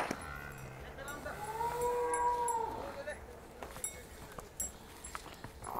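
Murrah buffaloes being loaded for transport let out a long low moo under steady background noise, with scattered knocks and hoof movements around it.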